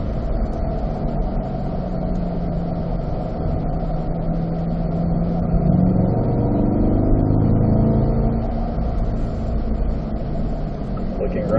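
A Chevrolet Corvette C8 accelerates hard on a track at a performance driving school, its engine note climbing steadily through the gears in a loud, continuous roar with road and wind rush underneath.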